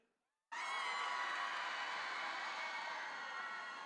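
A large arena audience at a robotics competition bursts into loud, sustained cheering and shouting for the red alliance, a broad roar that starts abruptly and holds steady for several seconds.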